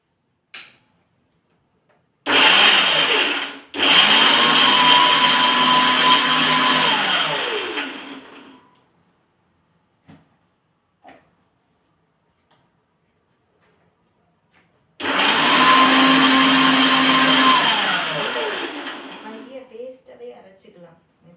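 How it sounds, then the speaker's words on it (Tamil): Kitchen mixer grinder whirring through sweet corn sabzi ingredients in two loud bursts, the first pulsed and the second steady, with quiet pauses between them. "வாங்க, மிக்சியில் அரைச்சிடலாம்."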